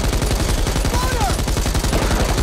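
Rapid automatic gunfire in a video game: a fast, evenly spaced stream of loud shots throughout, with a whining ricochet sweep partway through.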